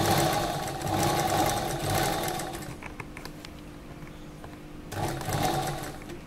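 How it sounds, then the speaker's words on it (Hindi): Sewing machine stitching along the edge of piping on pink fabric for an Anarkali dress, running in two steady bursts with a quieter pause between them, close and alone. "इस पाइपिंग के एकदम इधर किनारे पे आप सिलाई लगाए"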